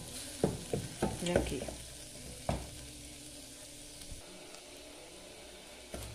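Meat and small pieces of carrot sizzle and sauté in a pot for a vegetable soup, with clattering stirring strokes early on before the frying settles to a quiet hiss; someone speaks briefly.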